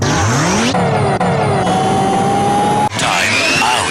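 A Ford Galaxie engine fires up loudly and close, then revs hard in rising and falling sweeps, briefly dropping off before roaring again.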